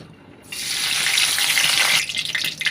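Bay leaf, cinnamon and cardamom dropped into a generous amount of hot oil, a sudden loud sizzle that bursts in, holds steady, then softens into spitting crackles, with no voices.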